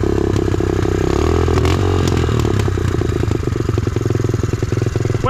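A small motorbike engine runs hot and revs steadily on a muddy cave trail, loud and close, with clattering and scraping as it works through the mud.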